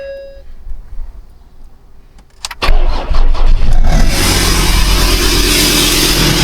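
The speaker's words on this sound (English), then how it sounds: "So let's see how she starts up." A Ford Ranger Wildtrak 3.2 turbo diesel, with no exhaust or air filter fitted, cranks briefly and fires up loudly nearby, then settles into a steady, raw, unmuffled idle with turbo whistle and intake hiss.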